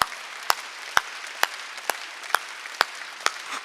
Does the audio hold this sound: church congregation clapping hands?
yes